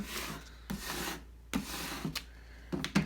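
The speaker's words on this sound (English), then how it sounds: "I use my scraper tool and I go ahead and just scrape the back so it actually sticks to the transfer tape a lot easier" A scraper tool rubs firmly across the back of transfer tape laid over a vinyl decal on a canvas, giving repeated raspy strokes with short gaps and small taps, close up and with no talk.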